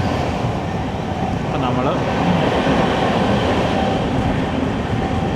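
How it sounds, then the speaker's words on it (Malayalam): A MEMU train on the Trivandrum–Ernakulam line rumbles past with a steady, loud roar and some clatter, heard from a nearby train, while someone speaks over it. "മെമു കടന്നു പോയിട്ടുണ്ട്."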